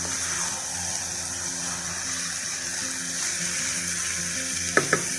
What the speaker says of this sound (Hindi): थोड़ी भूनने की आवाज़ आ रही है